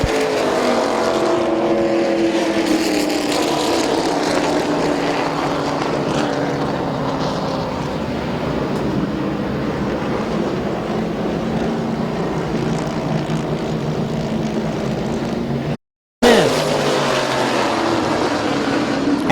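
Race cars circle the dirt oval at Midvale Speedway, engines droning and revving in a continuous loud roar that shifts in pitch, with a short dropout near the end.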